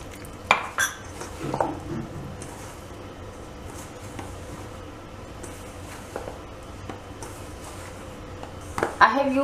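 Modak dough being mixed from flour and water in a bowl, soft scraping and occasional clinks of utensil against the bowl, close and quiet, with a voice talking at times.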